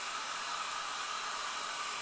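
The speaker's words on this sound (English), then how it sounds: "let's hit him with a hairdryer for a little bit." A hairdryer blows over a freshly painted miniature, a steady close rushing whoosh with no change across the short stretch.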